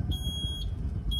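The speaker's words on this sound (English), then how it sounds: "But we do have a reversing beeper." Reversing beeper on a small shed-like vehicle, a high steady tone pulsing at even intervals over a low rumbling engine, close and moderately loud.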